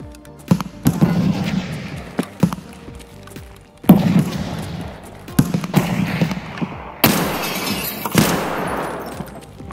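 Gunfire in Escape from Tarkov comes as several sharp, loud reports spaced a few seconds apart, each trailing off in a long echoing decay, with faint quieter shots in between and no talk.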